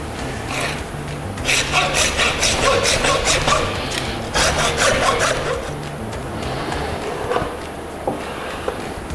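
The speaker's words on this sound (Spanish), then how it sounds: "Cuando topamos con el hueso, hasta ahí dejamos de cortar y utilizamos la sierra." A hand saw rasps through pork bone at the shoulder during butchering for charcuterie, with repeated back-and-forth strokes in bursts, some louder and close, then quieter scraping strokes toward the end.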